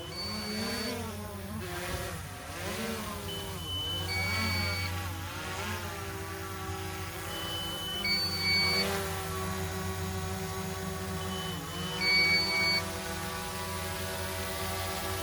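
A DJI Mavic 2 Pro drone comes in to land, its steady propeller whine holding close and fairly loud while the pitch rises and falls as it slows and adjusts, with no talking.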